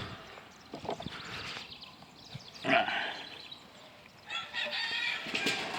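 Hens and chickens in a backyard flock give scattered clucks and calls, with one louder squawk near the middle and a busier stretch toward the end, over faint outdoor background.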